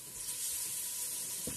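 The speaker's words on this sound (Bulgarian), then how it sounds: "И това месце отива в тенджерата. И започва да се запържва." Chicken fillet pieces sizzle and fry in a pot, a close, steady hiss with a light stir near the end.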